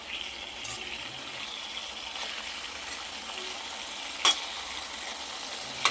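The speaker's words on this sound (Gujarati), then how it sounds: "આ રીતે વચ્ચે વસ્તુને ફેરવતા જવાનું છે અને સરસ ફ્રાય થવા દેવાની છે." Raw mango and tomato chutney sizzles steadily in a pan over a low-to-medium gas flame, a soft continuous frying hiss with a few sharp stirring clinks.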